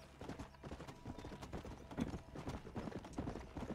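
Horse hooves clip-clop steadily in Red Dead Redemption as a rider moves along on horseback, a faint, quick, even rhythm of low thuds under rough ambient noise.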